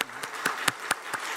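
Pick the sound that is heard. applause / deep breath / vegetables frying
applause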